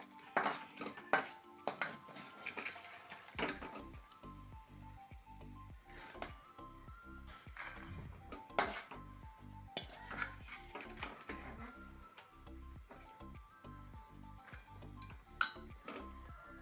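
A spoon scoops fried peanut masala out of a pan of hot oil, making repeated metallic scrapes and clinks in an irregular rhythm, with a soft steady sizzle beneath.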